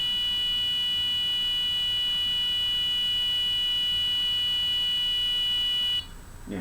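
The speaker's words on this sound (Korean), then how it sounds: "멈추면서 이제 부저음이 들리는 상황입니다" An Arduino buzzer sounding a steady, continuous high electronic tone with a faint background hiss, nearly alone, stopping abruptly near the end.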